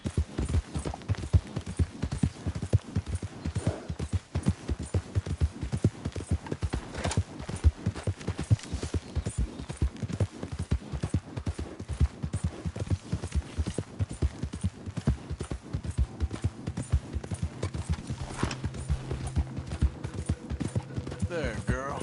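A horse's hooves clip-clop steadily in Red Dead Redemption, a brisk even rhythm of close hoofbeats running throughout with a low hum of game ambience and brief voices underneath.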